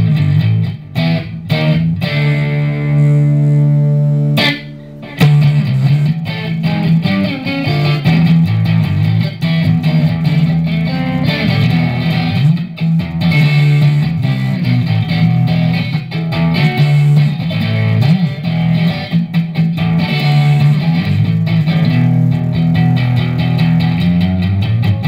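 A loud, slightly driven electric guitar plays through a Marshall CODE 50 amp on a Plexi setting, a long run of notes and chords, each echoing with repeating delay trails that blur together throughout.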